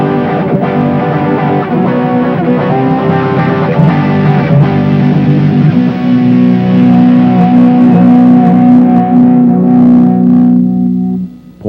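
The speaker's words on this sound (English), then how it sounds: "you can have overdrive, distortion, or both, because you can blend them together with the color control" Electric guitar through a BOSS OD-3 overdrive and distortion pedal, the two blended with its color control: loud, thick chords ringing out and sustaining, then fading at the end.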